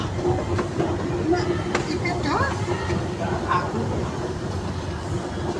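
A light rail train rumbles steadily past with clattering wheels and a low mechanical drone, loud and close throughout, on the LRT extension in Cavite.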